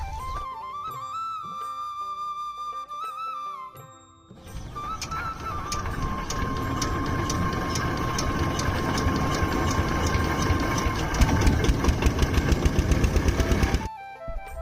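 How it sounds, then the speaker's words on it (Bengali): A fishing trawler engine on the Padma River chugs with a steady rapid knocking, growing louder after a brief pause with a tonal hum at the start, then cutting off near the end. "সফিবাইয়ের মাছ ধরার ট্রলারটি নিয়ে আমাদের মিশনে এখন যে পদ্মা ধরে যাচ্ছি"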